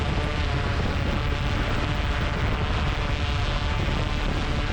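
A DJI Inspire 2 drone flying and climbing, giving a dense, continuous roar of rotors that holds steady and loud throughout, with no voices.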